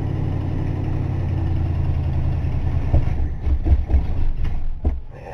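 A cold 1960 Dodge Dart engine idles with a steady low rumble, then grows uneven and lumpy with a few revs and stumbles toward the end, close and fairly loud, no speech.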